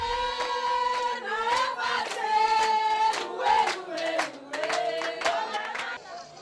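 Young people sing together at an all-night village funeral party in a Voodoo community, voices blending in a steady chorus with rhythmic clapping and crowd noise throughout.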